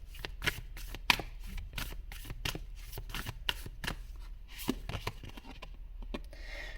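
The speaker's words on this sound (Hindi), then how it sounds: "अब यहाँ से मैं कुछ कार्ड्स निकालने वाली हूँ।" Tarot cards are shuffled and drawn close up, giving repeated crisp riffling flutters and soft slaps in quick irregular bursts, with no voices.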